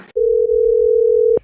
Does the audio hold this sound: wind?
no